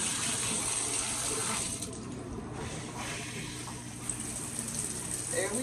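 Water sprays from a newly installed magnetic showerhead with push-button spray settings, a steady close hiss that continues without a break for the whole stretch.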